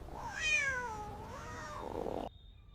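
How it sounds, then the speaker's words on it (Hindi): A cat meows in one long, rising and falling call that lasts about two seconds, close and clear, then stops abruptly into silence. "बिल्ली को इंग्लिश में कहते हैं कैट।"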